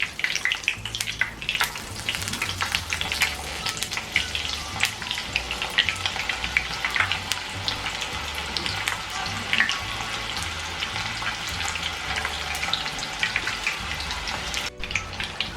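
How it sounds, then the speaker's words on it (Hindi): Red chickpeas deep frying in hot oil for homemade mixed nimko, a steady close crackling sizzle with dense bubbling pops throughout, loud and continuous with no talking. "ये अब हम चने फ्राई कर लेते हैं"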